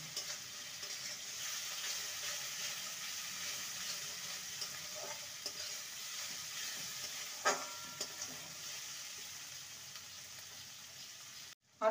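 Ginger garlic paste sizzling in a hot pan, a steady quiet hiss with a few faint scrapes of stirring and a sudden loud clatter at the very end.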